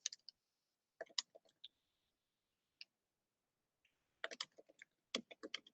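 Light keystrokes tap out on a computer keyboard while a blog post heading is entered, coming as quiet, crisp clicks in short irregular clusters with gaps between them.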